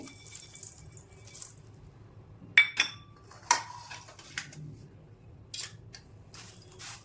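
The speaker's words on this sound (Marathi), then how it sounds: "आणि हे सगळं मिक्स करून घेणार आहे." A spoon clinks and scrapes against a bowl while oli bhel is mixed, with puffed rice, peas, chaat masala, coriander and farsan inside. A few sharp metallic taps and rattles stand out over quiet background noise.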